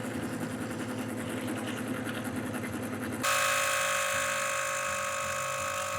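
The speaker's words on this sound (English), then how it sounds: "Then we're gonna hit empty sediment canister and let it purge itself." An E-Drill purging its sediment canister: a steady mechanical whir that abruptly shifts into a louder, higher-pitched hum with a sustained tonal whine, running continuously and close with no talking.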